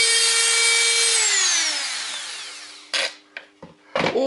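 A power tool whines loudly, then spins down in pitch, followed by a few short scraping bursts of grinding up close.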